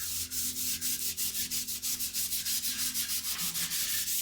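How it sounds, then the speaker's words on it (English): Synthetic steel wool pad rubbing oil into wood, a steady rhythmic scrubbing with quick strokes repeating about every quarter second, close and continuous with no talk. "You just rub it right into the wood."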